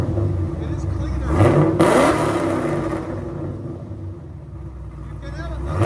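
A cammed Chevy Camaro SS with headers and Dynomax Bullet mufflers rumbles loudly and steadily up close, swelling into a throaty rev before settling back into a deep, choppy idle.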